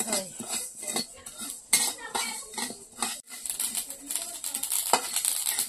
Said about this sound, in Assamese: এতিয়া প্ৰথমে শুকান কেৰাহীত খৰ মৰাই ল'ব লাগিব